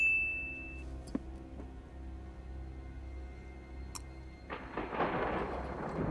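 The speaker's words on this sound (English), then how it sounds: "Dramatic thunder and lightning is dramatic." Thunder in a dramatic film scene: a low rumble with a few sharp cracks rises into a heavier, louder roll near the end, with no talking.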